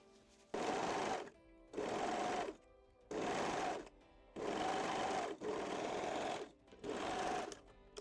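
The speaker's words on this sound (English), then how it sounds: "Then place the front pieces right sides together and pin and sew the center" A sewing machine stitches a lace panties seam in six distinct bursts of close, steady whirring, each lasting about a second with short quiet pauses between.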